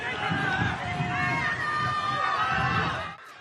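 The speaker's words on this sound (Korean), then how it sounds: "참석한 시민들로부터 거친 욕설과 야유가 쏟아졌습니다" A crowd of citizens at a memorial ceremony shouts harsh insults and jeers at a speaker reading a eulogy, a dense, continuous roar of many voices that carries on throughout and cuts off near the end.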